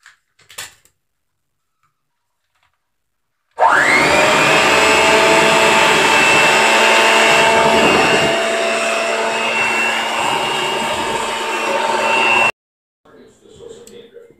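An electric mixer whirs steadily for about nine seconds, beating a thick Trinidadian black fruit cake batter, with a loud, even motor drone that starts and stops abruptly, quiet before and after.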